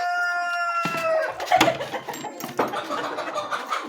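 Hens cluck and squawk nearby in irregular bursts, with a rooster's crow ringing out at the start over a noisy poultry farm of about 700 hens and 80 roosters.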